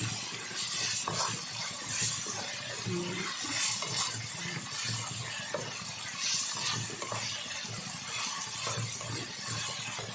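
Keema, minced meat salted and browning in a pan, gives a quiet, continuous crackle with scattered clinks and stirring scrapes, close but low in level throughout.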